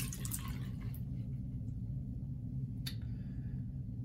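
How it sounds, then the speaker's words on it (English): Kitchen or bathroom faucet running steadily as small aerator screens are rinsed under the stream, a continuous close splashing wash with a couple of brief clinks. "We'll give them a quick rinse."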